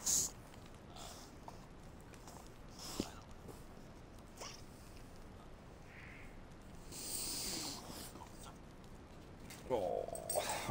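A dog whimpers and snorts faintly with a few short bursts, while people talk quietly nearby in a home setting.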